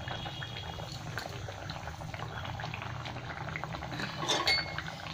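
Fish curry with potato and eggplant simmering in a pot, a continuous soft bubbling with faint metallic clinks near the end, close up and quiet.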